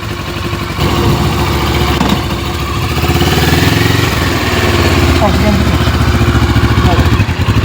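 A motorcycle engine idles with a loud, steady, rumbling chug during a roadside breakdown on a trip from Peterborough to Thunder Bay, Canada, close by, with people talking over it.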